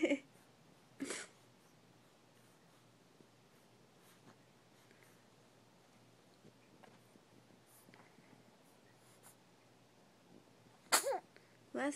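A sharp, sudden sneeze bursts out in an otherwise quiet room, followed near the end by another loud, abrupt burst of a similar kind.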